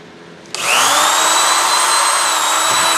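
Power drill starting up abruptly and running at a steady high-pitched whine, close and loud, while fastening a panel during a build, with no talking.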